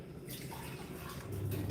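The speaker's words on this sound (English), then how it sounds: "Pour a bit of water." Water poured from a container into a pot of African stew on the stove, a soft, steady splashing that stays close and grows slightly fuller near the end.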